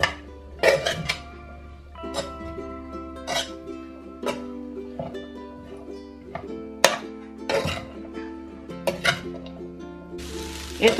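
Fried rice with egg and cabbage stirred in a pan for Korean street food: spatula scrapes and clinks of metal on the pan ring out in irregular bursts over a soft sizzle, close and fairly loud, with music-like tonal background.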